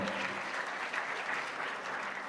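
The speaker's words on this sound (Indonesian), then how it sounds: "Tepuk tangan dong" An audience at a film talkshow and workshop at Bentara Budaya Bali applauds steadily throughout, a dense, even wash of clapping from many hands with no clear break.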